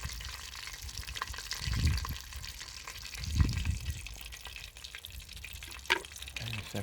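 Beer-battered mushrooms, prawns and onion rings deep frying in cooling oil at a cabin, a soft steady sizzle with a couple of low bubbling surges and a faint clink, no talking.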